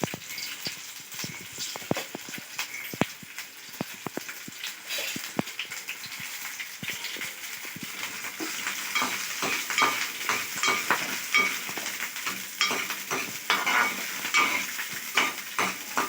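Onions frying in oil for an ivy gourd (dondakaya) masala curry, a steady bright sizzle with scattered crackles and occasional stirring clinks, close and continuous with no talking.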